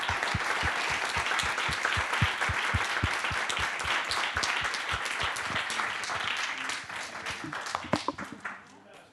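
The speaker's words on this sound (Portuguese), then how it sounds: "Uma salva de palmas para os nossos convidados." Audience in an auditorium applauding guests at an anniversary event for a Portuguese cinema centre: steady, full applause with distinct rhythmic group clapping, gradually thinning into a few scattered final claps as it fades near the end.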